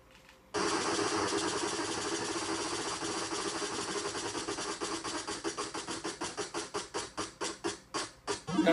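Spinning wheel sound effect from the NES Wheel of Fortune video game: a steady electronic whir starts abruptly, then breaks into a clicking pulse that slows gradually as the wheel winds down, with no voices over it.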